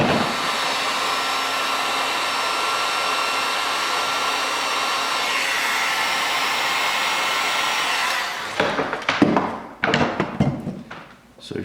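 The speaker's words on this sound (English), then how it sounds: "I prefer a heat gun" A heat gun blows with a steady loud roar while shrinking heat-shrink tubing on a harness for a winger, then cuts off, followed by a few close handling knocks and taps.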